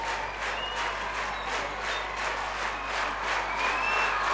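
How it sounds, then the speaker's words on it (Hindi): A large audience at a national event with CISF personnel present breaks into loud, sustained applause, a dense, even wash of clapping that continues steadily throughout. "और आप खूब जोरदार ताली बजाओ"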